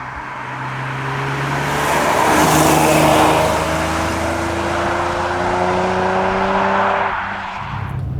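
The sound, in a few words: Jaguar XJR-6 manual car engine revving while driving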